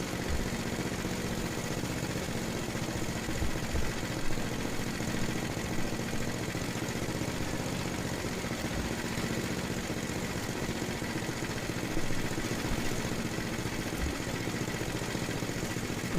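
Estate by Murray 8/27 dual-stage snow blower engine idling steadily after an idle speed screw adjustment, a constant close mechanical drone with faint clatter, no voices.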